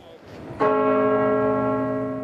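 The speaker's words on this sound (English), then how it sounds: "Bells tolled up and down the country, mourning the death of the Queen." A church bell tolls in mourning for the Queen, with a single strong strike that rings out in a long, sustained, slowly fading hum after a brief quiet lead-in.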